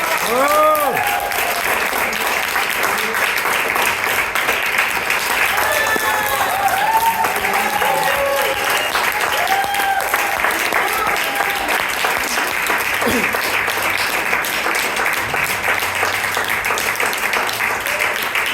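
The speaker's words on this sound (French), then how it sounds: "Merci, vous pouvez les applaudir très fort." An audience at an improv show applauds the performers loudly and continuously, a full sustained wash of clapping with cheers and whoops rising above it throughout.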